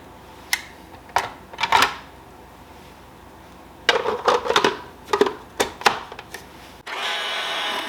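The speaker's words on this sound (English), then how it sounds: "I'm using this slicer. It's an adjustable slicer, so I'm gonna try to cut these pretty thick" Peppers are thickly sliced on an adjustable kitchen slicer, giving irregular sharp clacks and scraping strokes in short bursts, then a steadier noise at the end, with no speech.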